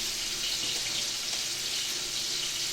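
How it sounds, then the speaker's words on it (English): Oily steak juices poured into a kitchen sink make a continuous, even hiss of running liquid, close and steady throughout. "Pour it in the sink."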